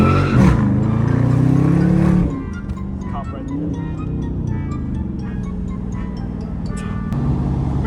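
A wrapped Dodge Charger rounds a corner, its engine a loud, close rumble that eases off as the car turns and then builds again, with wind noise and someone talking over it.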